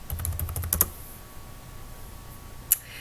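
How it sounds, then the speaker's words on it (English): Typing on a computer keyboard: a quick cluster of soft key clicks at the start, then quiet, with one more sharp click near the end, fairly faint. "let's type in student protest here."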